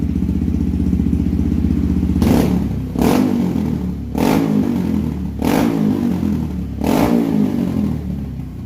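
A Honda CRF 150L motorcycle engine idles too high, around 2000 rpm, with a loud, close, steady droning putter broken by five evenly spaced throttle blips.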